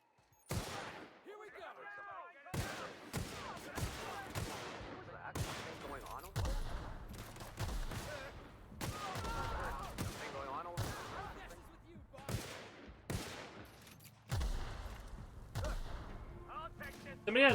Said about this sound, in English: Somebody has a grenade launcher